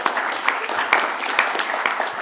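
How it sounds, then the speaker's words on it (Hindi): A group of people clapping together at a patriot's memorial along a freedom heritage walk, a steady, dense round of applause in the open, with a voice talking faintly underneath. "इसको हम तालियां बजाएंगे।"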